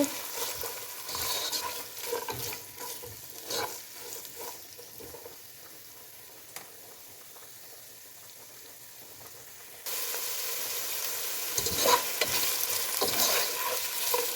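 Green chillies and carrots stirred in a hot pan for pasta, a spatula scraping through a crackling sizzle that fades quieter midway and then swells louder with stronger frying.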